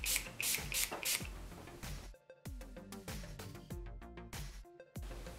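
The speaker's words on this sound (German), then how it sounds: "dann sprüht ihr noch was Haarspray drauf." Hairspray hisses onto a freshly made knotted bun in short repeated bursts, close to the microphone, with brief rustling and handling noises between the sprays.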